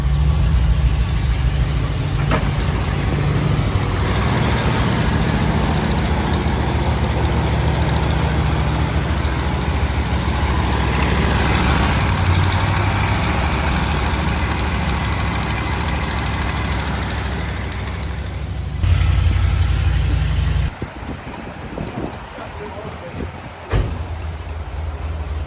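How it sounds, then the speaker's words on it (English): An old Ford F-250 Ranger truck engine idles with a continuous, rough mechanical rumble, close and steady, dipping briefly near the end. "Truck started."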